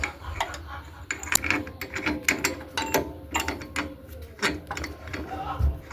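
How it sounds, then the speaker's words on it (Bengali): Metal magnet puller being worked off a Honda Shine 125 engine, with irregular close clanks, clicks and ratcheting scrapes of tool on metal over low background noise. "দাঁড়ান আমি পুলারটা খুলি"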